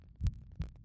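Two deep, muffled heartbeat thumps about a third of a second apart sound in the video game Omori, each a soft low pulse over a quiet hum.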